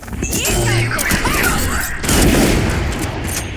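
Raze's satchel charge goes off in a Valorant match, a loud booming blast cutting through busy game sounds and gunfire, with a second heavy burst about halfway through.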